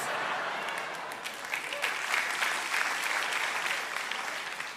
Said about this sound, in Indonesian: Itu tepuk tangan menyetujui atau menghina saya juga nggak tahu lah.